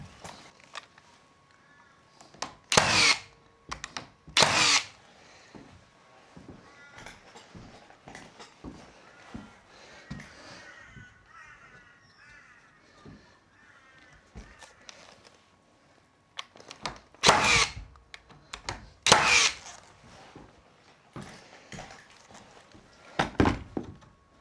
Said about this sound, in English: Let's whack some nails in.